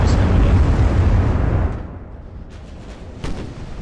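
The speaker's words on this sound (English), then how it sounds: "Now he's starting to fire his secondary, so we're seeing a big rain of shells coming" Naval shell explosions from the Ultimate Admiral: Dreadnoughts warship game, a loud rolling rumble of blasts that fades, then a few sharper distant bursts.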